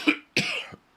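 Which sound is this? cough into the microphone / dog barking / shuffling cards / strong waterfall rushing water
cough into the microphone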